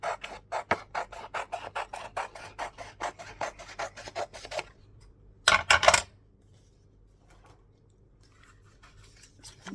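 Scissors snipping paper for a junk journal greeting card, a quick rhythmic run of close, crisp cuts followed by a brief louder rustle and then near silence.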